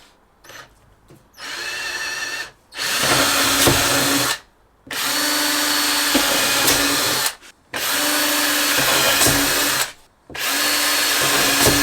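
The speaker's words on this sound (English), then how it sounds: "I could drill some small holes on the line, couldn't I?" A power drill bores small holes into a camper van shower fitting in four loud bursts of several seconds each, its motor whining steadily and then stopping with short silent pauses between runs.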